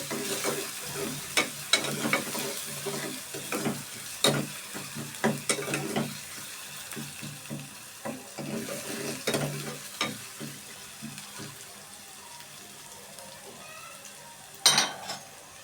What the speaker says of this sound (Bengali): আমি আবারও ভালোভাবে নাড়তে থাকবো।